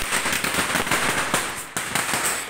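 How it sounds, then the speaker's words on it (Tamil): A dense, continuous string of Diwali firecrackers bursts in rapid crackling pops, loud and close, with sharper bangs punctuating the barrage. "எல்லா இடத்துலையும் சரவடிகள் வெடித்து கொண்டு இருக்கிறது"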